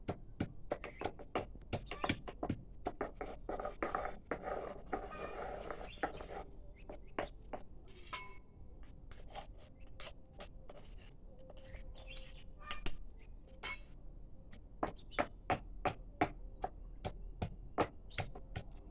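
Chillies pounded for a roasted-chilli chammanthi chutney, heard as steady rhythmic thuds and sharp knocks from a pestle, repeating close and distinct, with a brief burst of scraping in between.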